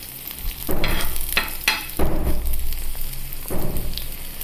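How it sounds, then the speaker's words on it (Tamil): Omelette batter poured onto a hot dosa griddle gives off a steady close sizzle and frying crackle, with a few louder bursts of hiss, and no one talks. "தோசைக்கல் கொஞ்சம் சூடாகட்டும். இப்போ நல்லா காஞ்சிருச்சு. ஸோ நம்ம ஆம்லேட்டு ஊற்றலாம்."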